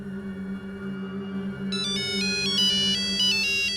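A phone ringtone goes off at night with the boss calling, a repeating electronic melody of stepped tones that starts partway through over a steady low hum and keeps ringing to the end.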